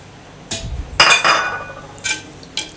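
Chicken biryani masala stirred in a metal pot, with spaced clinks and clanks of a spoon striking the pot between quieter scraping, close by and without speech.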